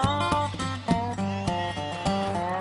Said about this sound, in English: Caesar wants Gus to do what he was born to do, round up some sheep.